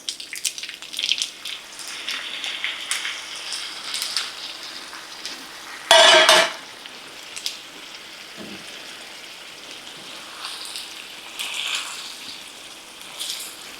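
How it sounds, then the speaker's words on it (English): Pasta water poured into a pan with pancetta for carbonara, a brief loud splash and sizzle rising in the middle of an otherwise quiet spell of light kitchen clatter and soft watery patter. "Add in a little more of that pasta water."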